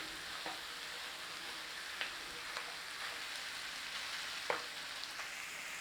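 Ground meat frying together in a pan for an Australian meat pie, a steady soft sizzle with occasional light scrape ticks from a wooden spatula breaking it up, close and fairly quiet.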